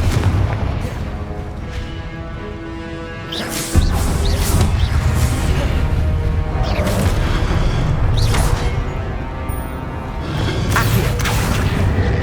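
Confringo blasting spells explode in Hogwarts Legacy combat, amid other spellcasting. A loud, sudden boom lands partway through, followed by repeated heavy blasts and rumbling impacts over continuous battle noise.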